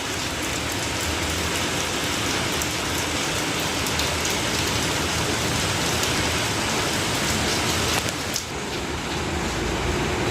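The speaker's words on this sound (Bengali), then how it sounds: "আবার বৃষ্টি হচ্ছে।" Rain pours steadily and heavily, a dense unbroken hiss of drops drumming on surfaces all around, loud and close, with no voices.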